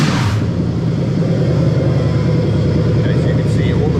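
A Lexus 3UZ-FE V8 swapped into an IS200 runs loudly with a deep, steady rumble and a raised whine throughout, close and continuous.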